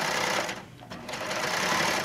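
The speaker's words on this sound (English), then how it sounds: "whenever we're serging," A serger (overlock sewing machine) stitches and trims pillowcase fabric in a steady, loud, fast mechanical whir that dips briefly in the middle, then runs on alone.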